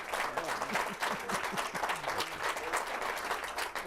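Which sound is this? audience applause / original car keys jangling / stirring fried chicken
audience applause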